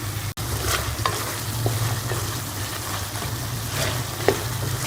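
Chicken and tomatoes cook in a pan on medium heat for chicken macaroni, giving a steady sizzle under repeated stirring scrapes and occasional utensil taps, with a low hum beneath.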